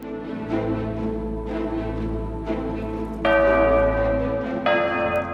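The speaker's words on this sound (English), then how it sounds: "So you want to ring this bell, which you have to do anyway." A large bell in the game Datura tolls with deep, resonant strikes at about one-second intervals, each sustaining into a rich ringing hum, then a brighter, louder chime cuts in near the end.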